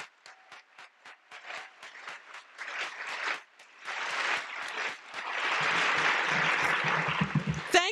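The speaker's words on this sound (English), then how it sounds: "let's give another big round of applause for all of our winners." Audience applause for award winners at an interfaith MLK commemoration event, starting as sparse individual claps that build into sustained, dense clapping from a sizable crowd, with a few whoops near the end.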